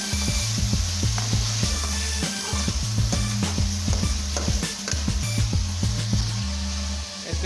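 Chicken pieces stirred and fried in a pot for village-style chicken biryani, a steady loud sizzle with repeated scraping strokes of the spoon against the metal in an uneven rhythm, close up and with no voices.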